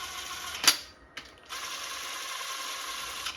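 A ratchet running down main stud nuts on a 6.5 diesel engine, one sharp click, a brief pause, then a steady close whirring ratcheting that continues to the end.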